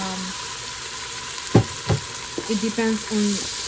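Ginger garlic paste hits hot oil in a pan for chicken biryani, giving a few sharp crackling bursts followed by a steady, close sizzle with no talking.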